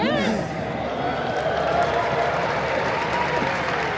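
Large audience applauding and cheering at the WebSummit conference in Lisbon, a broad, sustained roar of clapping from a big hall that holds steady throughout, with a speaker's voice rising over it near the start.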